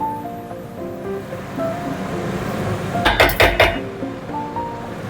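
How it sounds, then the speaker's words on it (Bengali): A lid is set over a pot of saffron prawn pulao, with rice and sugar cooking on a low gas flame. It gives a brief cluster of clattering knocks midway through, over a steady background hiss. "গ্যাসের ফ্লেমটাকে একদম লোয়ে করে ঢাকা দিয়ে রেখে দিলাম কয়েক মিনিটের জন্য"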